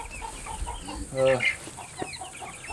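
Chickens on a Tennessee homestead give a short burst of clucking around the middle, fairly close, over a steady outdoor background, with a few quieter bird calls scattered before and after.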